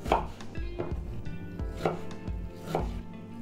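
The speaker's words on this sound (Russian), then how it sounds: "Яблоки режем произвольно, но не крупно, примерно так же, как мы э, резали лук." Knife chopping apples into small pieces for a salad on a cutting board, a few firm, evenly spaced chops close up with no talk.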